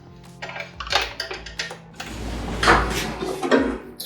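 Metal bolts on an instrument bulkhead being loosened with a metric Allen key, giving a run of close, irregular clicks, scrapes and knocks of metal against metal, with no voices.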